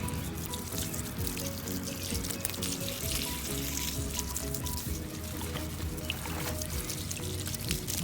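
Liquid fertilizer pours steadily onto garden soil beneath a plant in a raised garden bed, a continuous close splashing and trickling that runs unbroken for the whole stretch.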